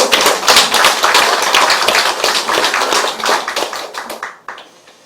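A congregation claps together during a church service marking a temple's third anniversary, a loud dense burst of many hands that thins and trails off near the end.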